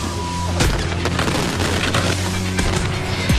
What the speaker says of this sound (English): The fireworks started too soon.